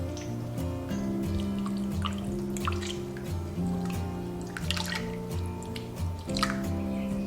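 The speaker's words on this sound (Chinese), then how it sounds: "现在我们把小肠给它翻面" Wet pork small intestine being turned inside out by hand in a kitchen, giving soft squishy, slippery handling noises and drips over a steady background hum, with no talk.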